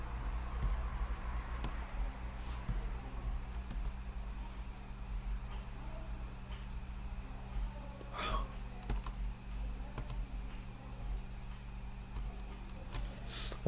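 Computer keys are typed in quiet bursts, soft irregular clicks and taps over a low steady room hum, faint and close.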